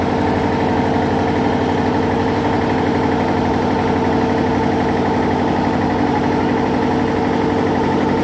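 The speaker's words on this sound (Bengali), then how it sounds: "ছেড়ে দিয়েছে আমাদের নৌকা।" A river ferry boat's engine drones loud and steady at close range as the boat pulls away from the ghat, a continuous low throbbing hum with no pauses.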